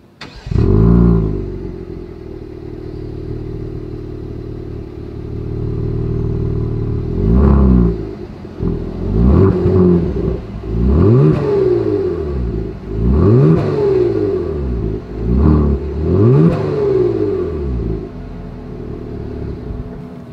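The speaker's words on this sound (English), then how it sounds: "As always, here is that exhaust clip." A 2022 car's V6 exhaust idles with a deep, steady rumble, then is revved hard several times in a row. Each rev climbs and falls back to idle, loud and close, with no talking.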